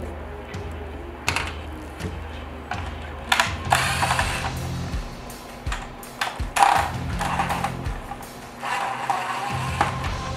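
Screws are being removed from a grille during a Runner Pro grille install, giving repeated ratcheting clicks in short bursts with pauses between them, close and fairly loud, with no talk.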